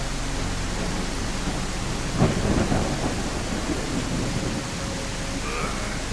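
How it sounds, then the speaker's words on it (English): A video-game thunderstorm with a steady hiss of rain throughout and one sharp thunder crack midway, rolling off into a low rumble. The rain stays dense and close. "It's too early for a storm, isn't it?"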